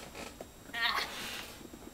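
A cat gives a single short, faint meow in the middle of a quiet indoor room.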